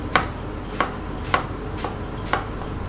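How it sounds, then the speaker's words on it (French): A knife finely chops an onion on a board in a steady, slightly uneven rhythm, with five or six crisp close taps and no talk. "on va ciseler l'oignon"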